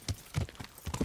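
Horse hooves clopping in Kingdom Come: Deliverance, a few distinct muffled hoofbeats in an uneven rhythm, fairly close and moderately loud with no talking.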